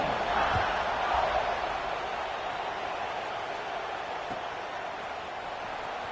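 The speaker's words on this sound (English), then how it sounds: "this crowd is buzzing after that last score" A packed football stadium crowd at a Penn State versus Alabama game keeps up a steady, dense roar of buzzing noise after a score, loud and continuous throughout, with no single voice standing out.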